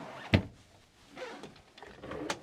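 A sharp knock is followed by a soft rolling slide and a light thud as a large drawer in a motorhome kitchen is pulled open and settles.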